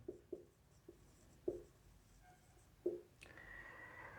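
Chalk or marker writing on a classroom board during a soil mechanics lesson, a series of short, distinct taps and strokes spaced irregularly, close and fairly quiet, ending in a brief scraping rush.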